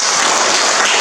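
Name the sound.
classroom applause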